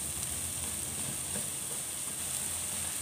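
Onion and chili sautéing in cooking oil give a steady, even sizzle that runs unbroken throughout at moderate loudness.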